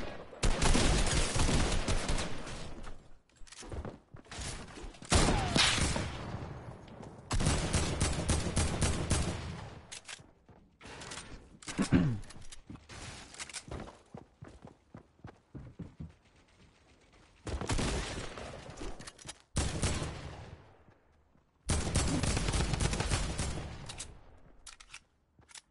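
Bursts of Fortnite gunfire in a firefight crack out in loud clusters and rapid volleys, separated by short quieter gaps, with no talk over them.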